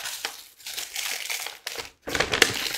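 Mail being opened: a paper envelope crinkles and tears in several close, bursty rustles with short pauses between them.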